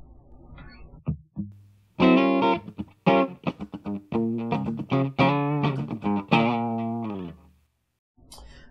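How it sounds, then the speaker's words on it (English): An electric guitar fitted with an active pickguard, dialed to a mellow jazz tone, plays a run of chords and single notes with short pauses between phrases, close and moderately loud with no voices. "Let's try a jazzy tone."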